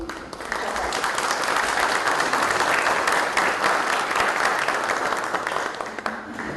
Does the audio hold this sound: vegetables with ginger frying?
no